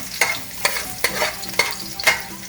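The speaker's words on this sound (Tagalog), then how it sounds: "Once init na ang mantika, so saute na siya." Garlic sautés in hot oil as the first step for crab and shrimp in coconut milk: a loud, close sizzle with five evenly spaced scraping stirs of a spatula against the pan.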